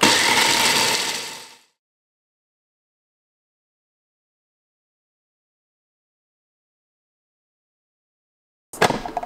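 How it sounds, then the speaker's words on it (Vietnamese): A food grinder whirs loudly as it blends roasted peanuts and cocoa into peanut butter. The motor runs for under two seconds and cuts off into silence, then a brief burst starts again at the very end. "Bây giờ mình sẽ xay để làm món bơ lạc này siêu ngon luôn."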